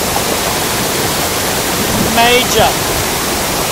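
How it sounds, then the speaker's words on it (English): Waterfall at Macquarie Pass, a steady loud broadband rush of falling water close by, with brief voices speaking over it. "look at this waterfall."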